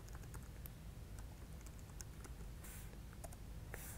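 Quiet, steady typing on a computer keyboard while entering a chart title in Excel, with rapid light key clicks and a few louder keystrokes, no voices.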